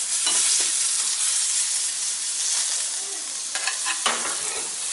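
Steady, close sizzle of an Uncrustables sandwich frying in a buttered pan at breakfast, with a few brief scrapes and stirs near the end.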